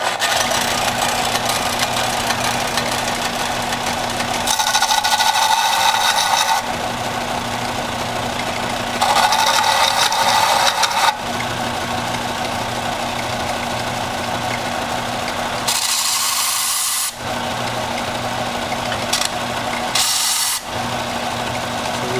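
Steel chisel being sharpened at a steady angle, giving a continuous grinding drone with bright bursts of abrasive contact that come and go in several passes, loud and close throughout with no talking.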